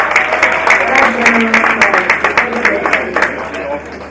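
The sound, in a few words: audience applause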